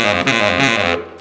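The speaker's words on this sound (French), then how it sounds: "sur le saxophone baryton, ça sonne plus comme un bateau que comme un saxophone" A baritone saxophone plays a short, low, bluesy phrase with a thick, buzzy tone, loud and close, with a brief break between sustained notes and no voices.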